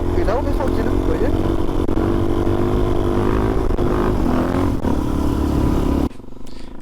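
Motorcycle engine held at a steady, loud drone during beginner wheelie practice, clutch work and third gear, droning continuously until it cuts to quieter rumble near the end; a voice talks over it.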